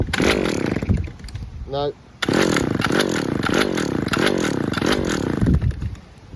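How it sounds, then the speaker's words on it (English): A Stihl petrol trimmer engine is pull-started and runs, a loud two-stroke buzz rising and falling in repeated revving surges, with a short dip as the motor nearly stalls before catching again. "Let's start it up again and let's see if she starts up first time."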